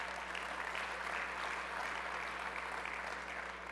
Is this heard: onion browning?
no